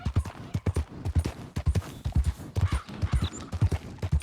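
A horse gallops in Red Dead Redemption 2, the video game, its hooves beating out a quick steady clip-clop rhythm, close and prominent throughout with no talk.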